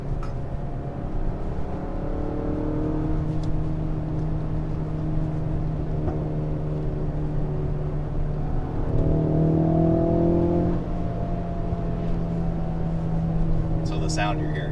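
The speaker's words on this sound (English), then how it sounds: "the grumble that you're hearing inside is fake noise." Inside a Ford Focus RS cabin, a steady artificial engine grumble drones beneath ongoing conversation, with a brief rise in pitch midway as the car pulls.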